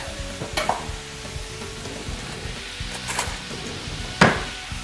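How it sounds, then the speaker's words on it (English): A small whisk scrapes and stirs a paste of buttermilk in a pan on the stove, a soft continuous scratching with a few sharper clinks against the metal and one loud knock near the end. "I'm going to go ahead and stir that up. I need the whisk."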